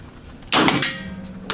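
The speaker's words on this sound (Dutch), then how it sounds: "Ah, it sounds like a cannon." A 9mm MP5 submachine gun fired at a shooting range: one sudden, loud, sharp blast with a metallic clang, followed by a ringing tail and a second smaller crack.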